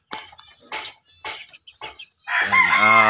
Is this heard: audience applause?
no